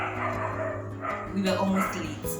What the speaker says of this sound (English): Sorry about the dog bark, okay?